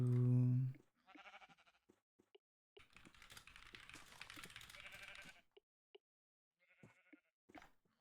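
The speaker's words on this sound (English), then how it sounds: "The sheep have been crazy recently." Sheep bleat in a few short, separate calls near a monorail setting, with quiet gaps between them and some faint clicking in the background.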